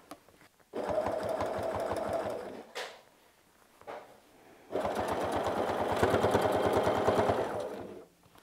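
Sewing machine quilting an extra stitched line around a fabric star, running in two long steady bursts of rapid needle chatter with a brief pause between, close and loud.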